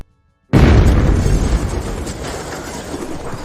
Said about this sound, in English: Tan and Mick, they found these really long fireworks in the cart. And they shoot them up